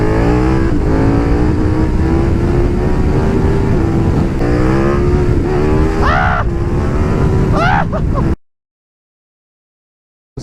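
A KTM 1290 Superduke R motorcycle accelerates flat out with the front wheel lifting, its engine howling loud and close through rising gear sweeps and quick shift dips before the sound cuts off abruptly.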